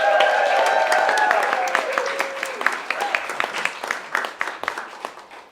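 An audience at an online disability justice and trans liberation event claps for Micah, scattered clapping over cheering voices that fades toward the end.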